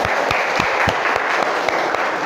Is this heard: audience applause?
yes